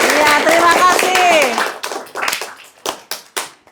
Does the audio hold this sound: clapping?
yes